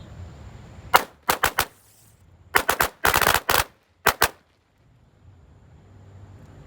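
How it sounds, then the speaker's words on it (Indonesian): A New Gangsing Tor firecracker goes off in irregular clusters of sharp, loud cracks, roughly a dozen bangs in quick bursts separated by short quiet gaps, then silence. "Lanjut kita nyalakan mercon New Gangsing Tor."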